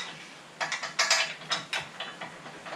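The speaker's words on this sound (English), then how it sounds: "we're going to have to squeeze the nut inside the hole and go and tighten that down" A ratchet clicks in quick bursts of several strokes, tightening a nut on a winch mount for a Jeep Gladiator or Wrangler JL, close and clear with no talking.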